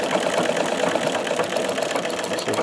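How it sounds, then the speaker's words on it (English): A sewing machine stitches with its needle set to the left position, giving a fast, steady mechanical whir and rapid ticking that runs continuously, close and loud, without talk. "Just sewing away normally, but I'm on the left-hand side."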